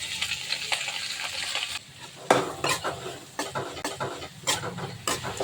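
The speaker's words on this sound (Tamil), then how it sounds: "இப்போ இந்த வெங்காயம் நல்லா வதங்கட்டும்." Garlic, onion and curry leaves sauté in a hot pan with dried chilies, giving a steady sizzle broken by the scraping clatter of a spoon stirring against the metal, close up and with no speech.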